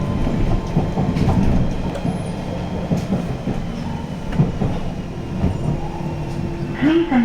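A London Underground Central line train runs toward Hainault, a loud steady rumble with rhythmic wheel clatter on the rails, close by and from inside the carriage, and a brief squeal near the end.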